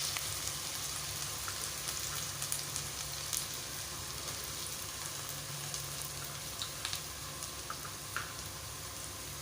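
Finely chopped onion and green chilli frying in hot oil, a steady dense sizzle and crackle throughout with occasional faint clinks, no talking.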